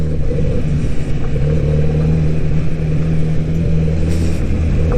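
A 2022 Kawasaki Z900RS motorcycle engine running under throttle on a ride, a steady mid-pitched drone with a low rumble throughout, close and continuous, with no one talking over it.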